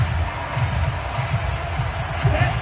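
Home crowd noise in the Madden football video game: a dense, steady roar of cheering spectators that swells slightly near the end, with a voice faintly under it.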